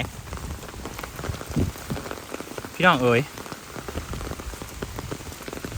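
Steady rain patters on a surface throughout, with a person briefly calling out over it midway.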